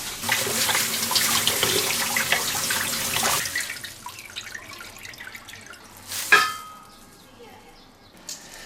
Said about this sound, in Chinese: 这边我把这个艾叶都给它洗干净